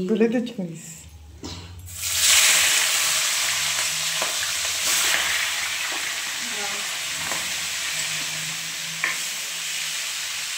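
Giant river prawns hit hot oil in a pan after pabda fish was fried, bursting into a loud, steady sizzle that continues with a few clinks and stirring sounds, preceded by brief talk.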